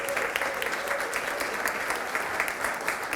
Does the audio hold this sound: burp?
no